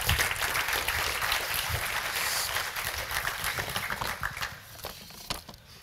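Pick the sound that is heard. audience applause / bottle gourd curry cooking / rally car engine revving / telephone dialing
audience applause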